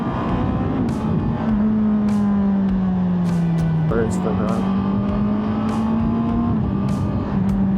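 A car drives along an Austrian Alpine road, its engine droning steadily with a gently shifting pitch, accompanied by continuous road and wind noise close up.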